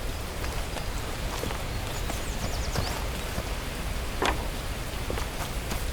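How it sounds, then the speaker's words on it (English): Steady rain hisses throughout in the video game The Last Plague: Blight, an even, dense wash of droplets with a few brief brighter ticks, no voices over it. "Oh, it's raining."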